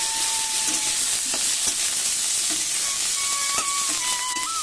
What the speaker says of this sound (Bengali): এবার এর মধ্যে আমি এই ধুয়ে রাখা উচ্ছেগুলো আমি দিয়ে দেবো।